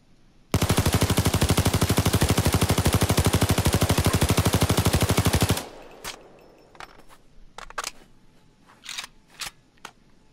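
An L85A2 assault rifle from Payday 2, the Queen's Wrath, fires one continuous fully automatic burst of about five seconds, loud, fast and evenly spaced, then stops, leaving scattered clicks and rattles.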